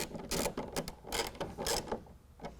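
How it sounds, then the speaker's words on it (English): A ratchet with a 1/2 inch socket turns a serrated flange nut while fitting a tonneau cover, producing faint, quick bursts of ratcheting clicks in an uneven rhythm. "I'm going to go ahead and tighten these up down below with the serrated flange nut. I'm going to use a 1/2 inch socket"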